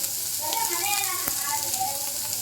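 Chana dal and urad dal hit hot oil for a raw mango chutney tempering, giving a steady close sizzle and crackle with a brief sharp pop midway; faint voice-like tones hover under the frying.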